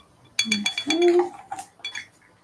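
A utensil stirs a lash cleanser mixture in a container, giving a short burst of close clinking and scraping strokes over about two seconds, with no talking.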